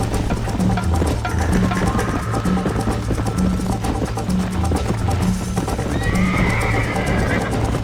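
Horses galloping in the Red Dead Redemption game, dense rapid hoofbeats with a loud neigh rising over the pounding, steady and close, with a voice shouting briefly.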